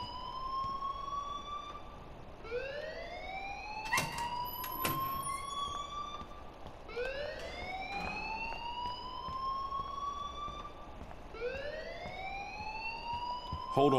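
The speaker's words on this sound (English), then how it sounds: "please turn off that alarm since that's your job" A school alarm in the video game Life Is Strange wails in repeated rising sweeps, each lasting about two seconds, with a few brief sharp tones layered over it. It stays loud and steady throughout.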